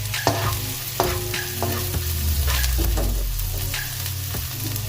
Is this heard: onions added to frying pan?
yes